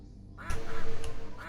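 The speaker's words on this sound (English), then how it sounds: "Still ducks around." Ducks quack in the video game Killing Time Resurrected, a run of several close, clear quacks that starts after a quiet opening and repeats over the last second.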